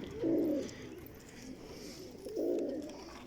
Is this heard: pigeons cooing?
yes